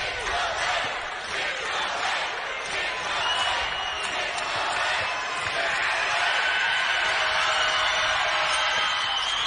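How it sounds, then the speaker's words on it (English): Basketball crowd at the Ole Miss arena in Oxford during a close SEC game against Auburn, a loud, sustained roar of cheering and yelling that swells toward the end, with a commentator talking over it. "And the crowd's into it here at Oxford."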